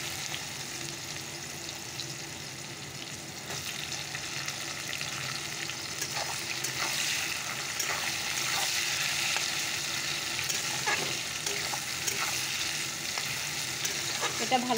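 Onions and chopped tomatoes frying in a pan, a steady close sizzle with occasional crackles and stirring scrapes running throughout, no voices.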